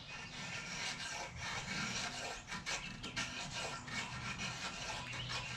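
A test knife carves curls from a piece of wood, giving a steady, close rasping scrape that runs without a break and with small dips in loudness, and no one speaks.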